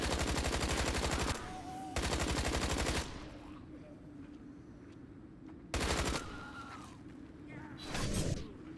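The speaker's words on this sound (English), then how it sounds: "Let's garner some extra points with the machine gun and speed up the wave a little bit" Machine gun fire in the zombie shooter Grave Danger, loud sustained bursts of rapid shots separated by pauses, with lighter game effects rumbling between them.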